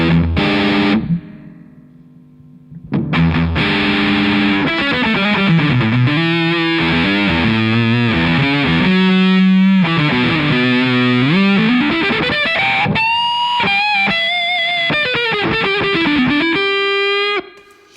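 Electric guitar through a Crazy Tube Circuits Motherload distortion pedal with the tone knob turned toward bright, a loud, gritty, sustained lead line with bends and slides after a short quiet pause near the start.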